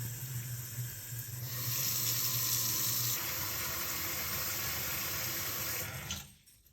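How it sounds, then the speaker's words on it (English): Tap water running steadily into a kitchen sink as it fills with room temperature water, a continuous close hiss and splash that swells midway, then cuts off abruptly at the end. "I am going to run some room temperature water in my kitchen sink, and I am going to fill the sink up"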